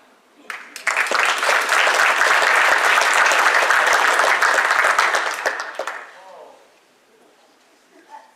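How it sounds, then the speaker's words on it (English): A crowd at a celebrity roast bursts into loud applause that swells quickly, holds for several seconds, then fades out into near silence. "I did not say hold your applause."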